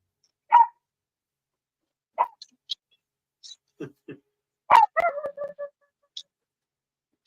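A dog barking on air during a live radio broadcast: a handful of short, separate barks scattered across the clip with gaps between them, moderately loud and close, with no talk over them.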